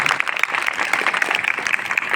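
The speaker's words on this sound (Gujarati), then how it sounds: "એ ત્રણેય શિક્ષક મિત્રો માટે પણ જોરદાર તાળી થઈ ગઈ" Applause for three teachers at a primary school flag-hoisting ceremony in Mandal, with a dense, steady patter of many hands clapping close by and sustained throughout.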